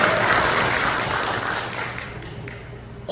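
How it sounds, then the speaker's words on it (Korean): At a World Migrants' Day celebration in Pocheon, South Korea, a crowd applauds in a dense, sustained burst that slowly fades out. "박수 한번 쳐주세요"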